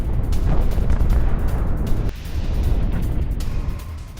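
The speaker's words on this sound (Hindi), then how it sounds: "नतांज एटमी साइट के पास धमाका हुआ है।" A blast near the Natanz nuclear site, heard as a loud, sustained rumbling roar with low booming energy and crackling debris, dipping briefly before the roar resumes; no talk over it.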